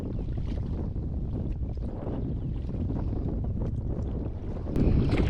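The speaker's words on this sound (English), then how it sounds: "It is definitely a little windy today" Strong wind at a kayak launch buffets the microphone in continuous low roaring gusts, with a heavier blast near the end; no one speaks.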